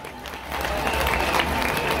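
A crowd applauds and cheers at a rodeo bull-riding event during a patronal festival in Oaxaca, a dense, loud wash of clapping and crowd noise, with low rumble under it.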